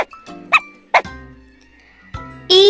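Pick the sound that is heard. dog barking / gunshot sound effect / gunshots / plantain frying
dog barking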